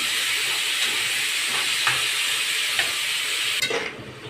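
Diced tomatoes frying in a pan with onion, garlic and pepper give a steady close sizzling hiss, broken by a few soft stirring scrapes, with a brief louder burst near the end as the sizzle drops away.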